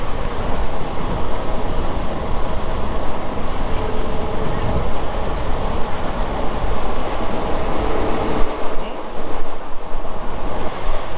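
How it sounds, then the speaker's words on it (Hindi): Steady loud rumble and rushing noise of a Tebhaga Express passenger train gathering speed from Kolkata toward Malda, a continuous clatter and wind roar heard from inside the carriage. "तो ट्रेन धीरे धीरे रफ्तार पकड़ रहा है"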